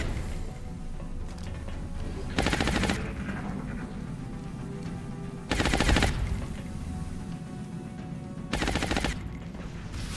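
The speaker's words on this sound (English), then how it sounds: "Taking heavy fire." Heavy gunfire in XCOM Long War comes in three loud, separate bursts of rapid automatic shots, spaced about three seconds apart over a low background rumble.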